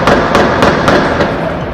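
Rifle gunfire from armed robbers in a town: a rapid string of sharp, loud cracks, about four a second, over a dense, noisy background, with no clear voices.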